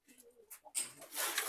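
Pigeons cooing in a loft of pet pigeons, soft close coos followed by a burst of rustling or fluttering noise, faint overall.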